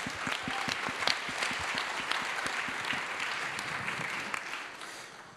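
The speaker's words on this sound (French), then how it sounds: "Je vous demande un tonnerre d'applaudissements pour Hicham" A conference audience claps loudly and continuously, a dense wash of many hands with a few sharper claps standing out, fading slightly toward the end.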